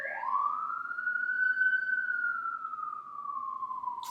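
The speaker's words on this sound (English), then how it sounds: "We have the police going by." A police car siren sweeps by on a Los Angeles street in one long, rising then slowly falling wail. It is loud and fairly close, and it sounds alone with no talk over it.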